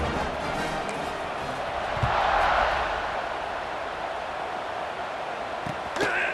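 A stadium crowd roars at kickoff in EA Sports College Football 26, a steady wash of distant cheering that swells briefly in the middle. A commentator's voice sits faintly over it.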